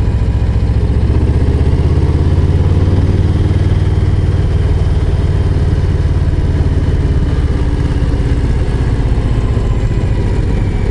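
A Harley-Davidson Low Rider ST motorcycle engine rumbles steadily while riding downhill on a mountain road, a loud, constant low throbbing drone with wind, no voices heard.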